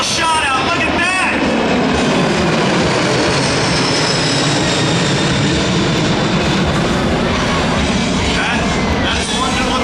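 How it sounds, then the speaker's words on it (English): A C-17 military transport airplane passes overhead at an airshow, producing a loud, continuous, broadband jet roar that stays strong and steady throughout, with the pitch shifting slightly as it flies over. "That is one good-looking airplane, folks."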